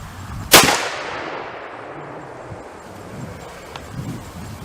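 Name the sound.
Weatherby .338 RPM rifle shots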